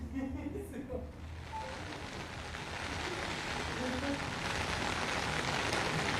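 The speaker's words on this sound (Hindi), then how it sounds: "अच्छी खासी स्पीड में इस समय बारिश अचानक से शुरू हुई है" Heavy monsoon downpour in Jaipur, a dense steady hiss of rain building after the first second and continuing loud and unbroken to the end.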